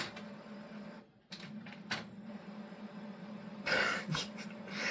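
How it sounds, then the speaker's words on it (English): A home printer whirs and clicks on its own, its motor hum running steadily with a few brief mechanical bursts and a louder grinding stretch near the end, heard close up with no one talking. "My printer's upset that I moved it."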